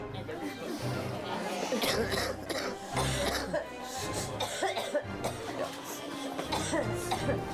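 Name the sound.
coughing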